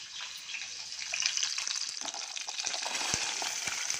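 Chopped carrot, beans, kohlrabi and potato fry in a hot pan, giving a steady, close sizzle with a few soft clunks from stirring.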